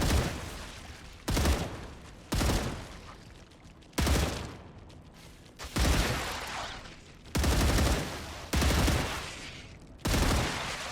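Loud, close gunfire in the video game Star Rupture comes as a series of separate sustained bursts of rapid shots, each broken by brief pauses.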